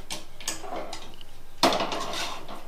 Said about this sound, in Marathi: तर आता मी हा तवा काढते